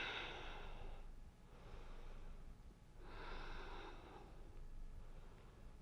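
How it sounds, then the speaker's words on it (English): During a yoga backbend preparation, a person takes slow, deep breaths, with two full rounds of big inhales and exhales that are soft, close and unhurried. "Big inhales, big exhales."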